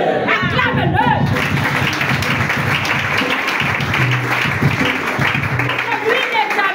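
A church congregation bursts into loud applause and cheers to acclaim God, dense clapping filling the room, with voices calling out and a preacher's speech over it.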